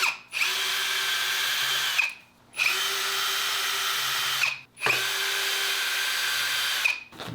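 Power drill backing out the bolts that hold an e-bike hub motor in place, three long steady whirring runs close by, each stopping briefly between bolts, loud and unaccompanied.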